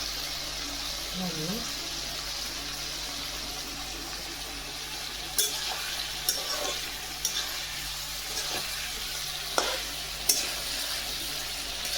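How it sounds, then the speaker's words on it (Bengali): Chicken for curry being stir-fried on a clay stove crackles under a steady frying hiss, with a few sharp scraping clinks of the utensil; a voice speaks briefly early on. "দিদি এখন ওই চিকেনটা খুব সুন্দর করে উলট পালট করে ভাজতে শুরু করেছে"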